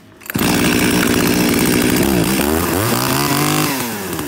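A Japanese E3 chainsaw with a primer pump, assisted pull starter and muffler starts up and runs loudly close by, holding a steady drone before revving up and down near the end.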